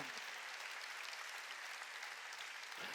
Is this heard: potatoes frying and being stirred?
no